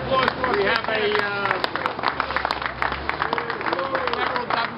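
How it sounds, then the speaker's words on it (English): Audience applause at a political endorsement event, a crowd clapping steadily while a voice keeps talking over the clapping the whole time. "Give a nice round of applause for us"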